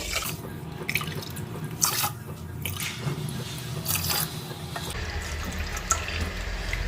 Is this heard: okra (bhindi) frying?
no